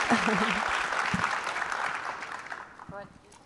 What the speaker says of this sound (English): I think that deserves a pretty significant round of applause